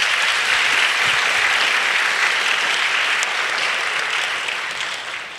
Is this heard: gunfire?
no